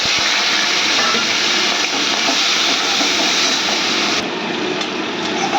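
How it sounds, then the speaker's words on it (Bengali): Prawns coated in salt and turmeric frying in plenty of mustard oil with bay leaf, cumin and nigella: a loud, steady sizzling hiss that runs continuously, easing slightly near the end, with no voices. "চিংড়ি মাছগুলো ভালো করে ভেজে নিচ্ছি লাল করে"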